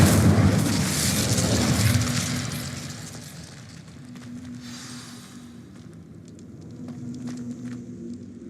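A fiery blast from the Incendio spell in Hogwarts Legacy, a loud rumbling burst that swells over the first two seconds, then fades into a lower crackling roar with faint flickers continuing to the end.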